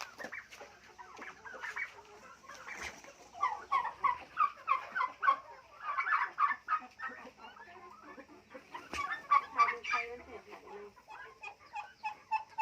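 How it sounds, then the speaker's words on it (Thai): Turkeys gobble and cluck repeatedly in bursts, fairly close, with a busy farmyard chorus of overlapping fowl calls. "เสียงไก่งวงค่ะ"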